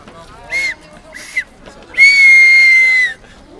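A person whistles to imitate a departing train: two short shrill whistle blasts, then one long sustained whistle, loud and close in a quiet room.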